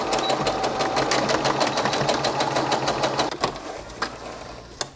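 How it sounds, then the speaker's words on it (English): A sewing machine stitching the side seam of a waistband on boxy summer shorts, close and loud, a fast even run of needle strokes that slows and stops near the end with a few single clicks. "First, I'm stitching the waistband, just the side seam"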